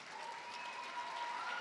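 An audience applauding at a nursing pinning ceremony in Henderson, steady massed clapping from a crowd that sounds somewhat distant and fills the whole short stretch without a break.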